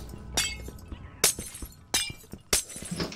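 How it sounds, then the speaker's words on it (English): Glass breaking in a survival video game, four sharp crashing shatters spaced roughly half a second to a second apart, each with a bright tinkling tail over faint background clicks. "so I had to break the glass."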